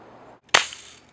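A single sharp gunshot cracks out close and loud after a brief pause, its report trailing off over a second of low ambience in a cowboy film scene.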